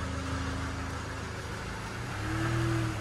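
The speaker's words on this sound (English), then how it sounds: "So guys, the engine's not knocking anymore." A Land Rover Discovery Sport engine idles steadily after a repair to a knocking big end bearing, a low continuous hum close by with a slight rise in revs near the end and no talk.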